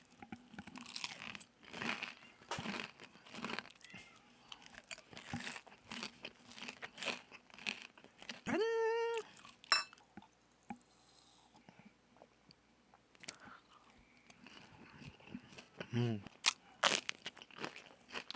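Fried chicken eaten with beer, crunched and chewed close to the mic in scattered bursts, with soft talk between bites and a few squeaky tonal sounds partway through.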